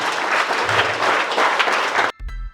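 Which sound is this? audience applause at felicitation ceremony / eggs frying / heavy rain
audience applause at felicitation ceremony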